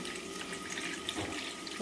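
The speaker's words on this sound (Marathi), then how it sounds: "आणि वर पाणी सोडायचं आहे" A steady stream of water splashes and runs continuously into a pressure cooker of chicken biryani, close and even throughout.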